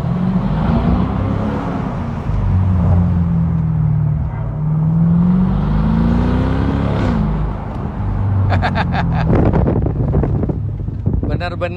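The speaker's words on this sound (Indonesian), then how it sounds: "Aduh, di bawah terowongan nih" Mercedes SLK 55 AMG driving through a tunnel, a steady engine drone with a gently rising and falling pitch, wind rush around it, and a burst of sharp clatter near the end.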